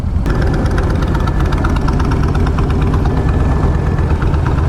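A motorcycle engine idles loudly and steadily nearby, a continuous rumbling chug with an even, vibrating rhythm and no pauses, at ByWard Market in Ottawa.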